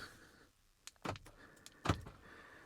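A Chevrolet Traverse answers remote key fob presses with a few short mechanical clunks and clicks, lock actuators firing close by in an otherwise quiet setting.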